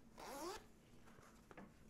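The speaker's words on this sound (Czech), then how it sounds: "a zip" A single quick zipper pull rasps open on a Warrior Assault System drop-down pouch in multicam, close and fairly faint, followed by light handling noises.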